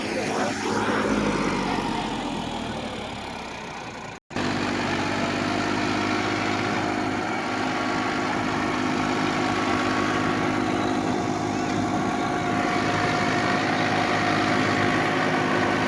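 A Massey 1035 tractor runs in a field while stuck with a load of hay, its engine holding a steady, loud, droning rumble throughout, with a brief break near the start.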